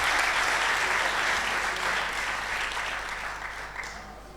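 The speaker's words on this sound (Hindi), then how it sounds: "पुनः तालियां बजा के अभिनंदन," An audience claps at a scholarship award ceremony, with dense, even applause from a crowd that slowly fades toward the end.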